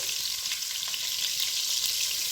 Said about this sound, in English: So let my butter melt.